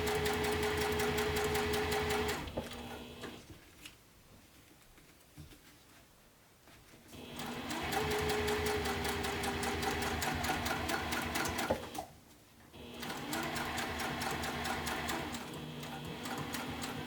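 Sewing machine top stitching a bag, a steady close mechanical whir in long runs broken by two short pauses, with no talking.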